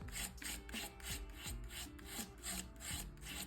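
Rhythmic rasping strokes sound close as texture paste is rubbed back and forth onto a decoupage coaster, a steady scraping pattern about three strokes per second.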